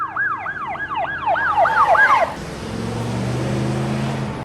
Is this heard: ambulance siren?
yes